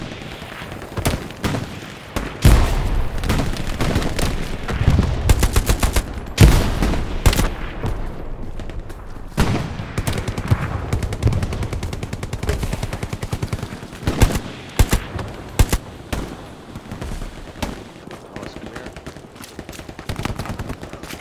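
StG44 assault rifle fire in the World War II shooter Hell Let Loose: sustained automatic bursts and rapid shots, loud and close, with distant battlefield gunfire continuing throughout and no voices.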